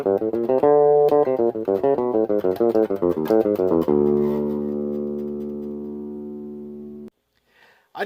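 A bass guitar plays a chromatic riff pattern, a fast run of separate picked notes repeated twice, then settles into one long sustained note that rings out before cutting to silence and a brief noise at the end.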